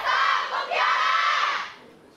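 A large esports arena crowd at an Overwatch World Cup 2018 Korea match roars and cheers loudly in a sustained burst, dips briefly, swells again, then fades away.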